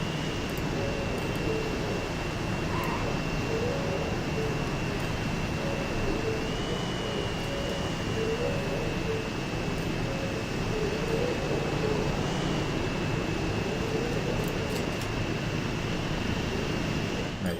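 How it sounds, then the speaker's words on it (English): Jet airliner engine in the Transport Fever video game, a steady loud broadband roar with a thin sustained whine running through it, continuous and unchanging for the whole stretch with no voices. "Listen to that jet sound."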